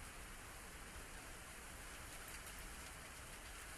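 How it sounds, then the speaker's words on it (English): Steady rain falls in the video game Archangel Eve, a soft, even hiss of constant patter with no pauses, heard quietly on its own. "taking shelter from the rain"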